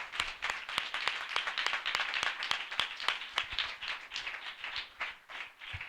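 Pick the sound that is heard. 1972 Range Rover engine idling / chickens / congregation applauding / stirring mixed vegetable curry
congregation applauding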